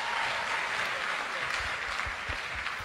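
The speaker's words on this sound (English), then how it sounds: "You can clap for them." Wedding guests clap for the couple after the vows, a short dense burst of applause filling the room at a steady level throughout.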